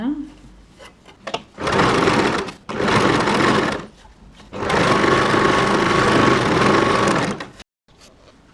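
A sewing machine stitches two layers of fabric together for a baby frock, running in three close bursts of rapid whirring separated by short pauses, the last burst the longest, with no talk heard.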